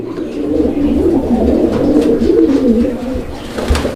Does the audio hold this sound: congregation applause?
no